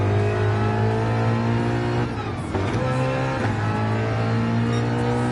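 A Ford Mustang race car in Gran Turismo 7 holds a loud, steady engine drone under throttle, with brief dips and lifts in pitch around gear changes or corners, close and continuous throughout.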